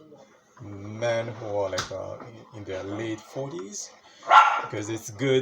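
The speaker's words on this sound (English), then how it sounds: "that's my dog barking" A dog barks a couple of times indoors in the background while a person keeps talking over it.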